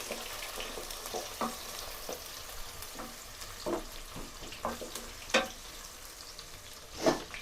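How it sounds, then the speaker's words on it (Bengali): Onions frying in oil until browned for chicken pulao, a soft, steady sizzle with intermittent scraping and stirring knocks nearby, fairly quiet and without any speech. "পেঁয়াজটাকে লাল করে বেরেস্তার মতো করে ভেজে নিতে হবে"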